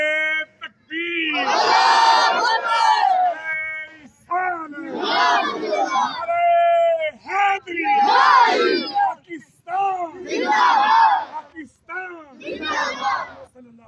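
A crowd chants back in unison to a Takbir slogan, with about five loud, ringing group shouts in steady succession, each separated by short pauses.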